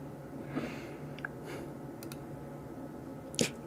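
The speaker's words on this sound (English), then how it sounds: "you guys can hear me clicking in the background" Scattered clicks of computer typing sound quietly in a room, a few soft irregular taps and one sharper click near the end, with faint breathing and no talk.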